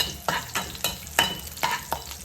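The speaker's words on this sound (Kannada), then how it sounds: "ಇದು ಸ್ವಲ್ಪ ಫ್ರೈ ಆದಮೇಲೆ ನಾನು ಆನಿಯನ್ನ ಹಾಕಿದ್ದೀನಿ" Onion and green chillies fry in a pan with a steady sizzle, broken by rhythmic stirring scrapes about every third of a second, heard up close with no voices.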